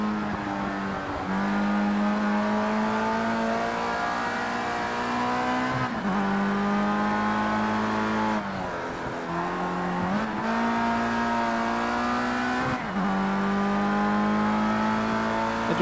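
Race car engine in Project CARS 2 holds a loud, steady high drone, dipping and climbing again at gear shifts roughly every few seconds, with no talk over it.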